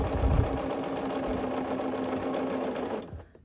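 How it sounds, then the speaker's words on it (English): A sewing machine stitches quilt petals together in one continuous, fast mechanical whir close up, stopping abruptly near the end. "We're gonna sew this together. I'm gonna backstitch at the beginning and at the end."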